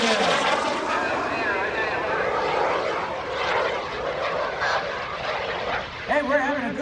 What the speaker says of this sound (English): of Justin Lewis live from the cockpit of the FLS MicroJet